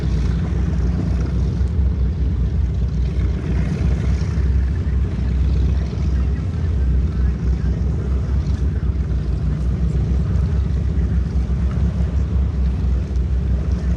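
A diesel boat engine near a jetty in Venice, Florida, likened to a Harley, runs as a loud steady low drone buffeted by wind noise.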